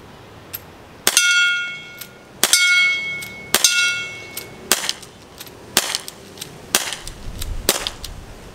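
An airsoft Desert Eagle gas blowback CO2 pistol fires outdoors in the wind: about eight sharp, loud reports at irregular intervals, each followed by a metallic clanging ring.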